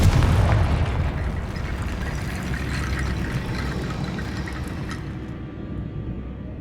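The Confringo blast spell goes off in Hogwarts Legacy as a loud, booming explosion that rumbles and slowly fades over several seconds.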